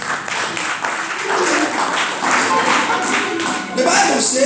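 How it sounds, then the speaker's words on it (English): Church congregation clapping in praise during a sermon, a dense, continuous patter of many hands heard at moderate level with faint voices mixed in. "Can we clap for God now?"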